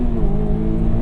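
A 2001 Honda S2000 AP1 with 177,000 miles, its engine revving loud and steady toward 9,000 RPM, a close, dense mechanical roar with no voices.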